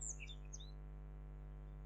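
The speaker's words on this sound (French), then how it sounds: "Si vous avez la chance d'entendre le chant des oiseaux à travers la vidéo" Birds chirp faintly outdoors in a few quick, high twittering notes near the start, over a steady low electrical hum.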